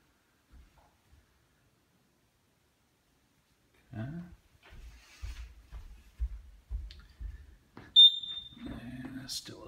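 A single short, high electronic chirp from a smoke detector, heard near the end amid footsteps, shuffling and soft voices in a house.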